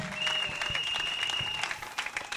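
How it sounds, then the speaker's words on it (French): A church congregation breaks into steady applause, dense clapping from a crowd filling the room at moderate loudness, with a sustained tone ringing over it. "Acclamez le Seigneur pendant qu'elle retourne."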